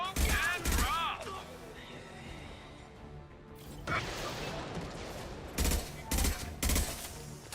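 Combat gunfire in the video game Mass Effect 2, several loud clustered bursts of shots with mechanical clatter in between, alongside brief in-game voices.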